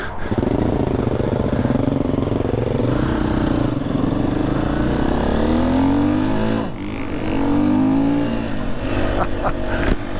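An off-road motorcycle engine revs steadily and loudly on a training trail, its pitch rising and falling in waves across the clip with a brief dip midway, running continuously at close range.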